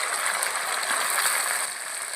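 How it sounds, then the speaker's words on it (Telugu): Chopped tomatoes hitting hot oil in a pan for a stuffed brinjal curry, giving a steady, loud broadband sizzle that holds evenly throughout with no talking. "చూడండి, కట్ చేసుకున్న టమాటాలు నూనెలో పోసిన."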